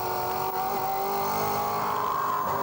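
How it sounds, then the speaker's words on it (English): V8 race cars, including a Ford Falcon, battle in a New Zealand V8 series race at Timaru in 2008, giving a loud, continuous close-up engine roar with a faint edge of tyre scrub throughout. "Mark Pedersen pulls up alongside the versatile Falcon of Adam Brook"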